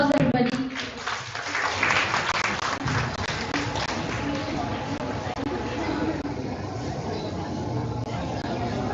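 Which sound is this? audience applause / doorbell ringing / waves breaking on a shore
audience applause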